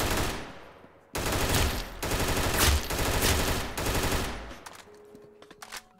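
Rapid automatic gunfire in the video game Arsenal, loud sustained bursts of shots back to back, then thinning out into a few scattered shots and echoing tails.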